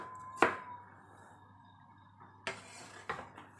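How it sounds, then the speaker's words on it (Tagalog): A knife cuts through an onion on a board while oil heats for a fish escabeche dish, giving a few sharp separate chops with quiet pauses between them, close and fairly faint. "Unahin kong hiwain tong sibuyas."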